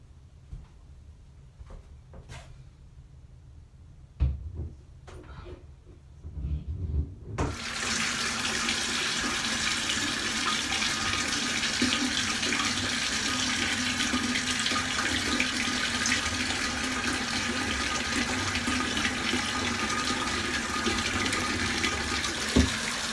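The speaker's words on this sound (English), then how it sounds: "I'm gonna fill it up in the bathtub" Water gushes from a bathtub tap into a glass bowl, a loud steady close rush that starts abruptly after some quiet handling clunks and continues unbroken to the end.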